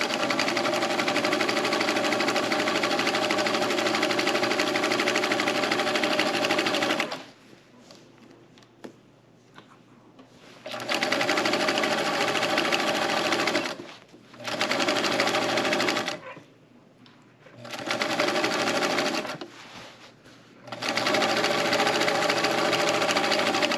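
Sewing machine stitching across the bottom of a pillowcase, running in several steady bursts with short pauses between them. It is close and fairly loud, with no talking.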